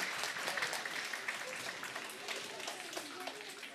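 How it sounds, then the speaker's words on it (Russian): Audience applause for Dinega and Darina at a live stage event, a steady dense patter of many hands filling the whole span, with speech heard over it. "ваши аплодисменты"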